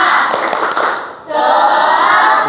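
A group claps together in a quick burst, briefly pauses, then resumes with dense, energetic clapping, loud and close.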